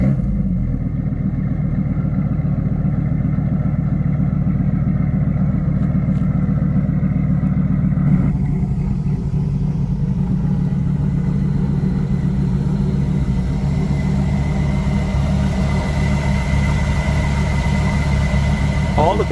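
A Dodge Ram truck engine is started and settles into a steady, loud, rumbling idle close by, running evenly throughout with some talking over it.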